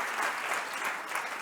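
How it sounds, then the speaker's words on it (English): An audience claps at the opening of the SasolTechnoX 2022 career exhibition, a continuous, even wash of many hands applauding from a distance at a moderate level, with no voices standing out. "Let's give a round of applause for this event"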